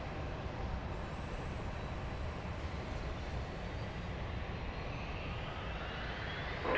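A Premier business jet takes off from runway 31 right, its engines a steady, broad roar that stays even and fairly distant throughout.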